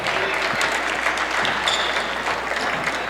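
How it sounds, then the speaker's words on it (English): Locals applaud steadily through a high school basketball game in a gym, a dense, continuous wash of clapping with no break. "Lainey Webster heads off to the applause of the locals"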